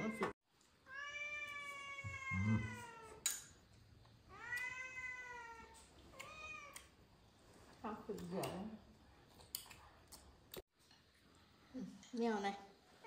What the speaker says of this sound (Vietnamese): Mèo này.